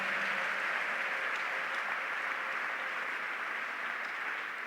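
A church congregation applauds in a steady, dense wash of clapping that holds at an even level throughout, with no talking over it.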